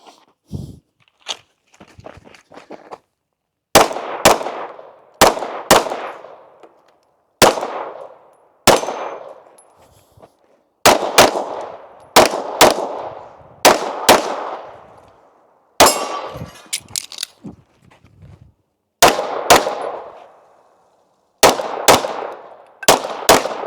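A pistol fired in a practical shooting (IPSC) drill at paper and steel plate targets, with sharp loud reports in quick pairs and short strings separated by pauses, some ringing metallic hits, and no talking.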